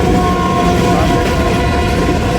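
Awam Express 14 Down passenger train running past at around 60 km/h in fog near Rawali railway station, a steady loud rumble with tonal hum throughout, no voices.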